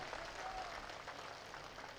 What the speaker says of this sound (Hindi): इतनी जबरदस्त तालियां होनी चाहिए